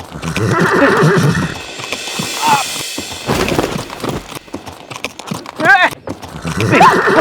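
A horse whinnies loudly in a couple of rising neighs amid hoof clatter, with people talking and shouting excitedly over and between the calls.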